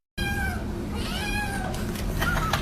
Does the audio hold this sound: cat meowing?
yes